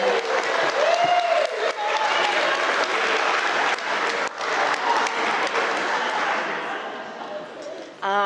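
Wedding guests applaud in a dense, steady wash of clapping that carries on for several seconds, with a few voices and whistles mixed in before it tapers slightly toward the end.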